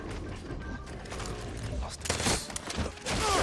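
Gunfire in the video game Far Cry 6, with clattering bursts of shots and mechanical clicks building toward the end, loud and close, mixed with other game sounds.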